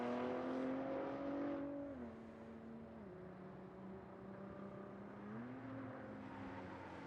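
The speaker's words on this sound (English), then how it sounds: "I want you to hear these cars as much as possible." Hypercars including Ford GTs circling a race track, heard from a distance as a smooth engine drone whose pitch rises, then drops and shifts as cars shift gears and pass.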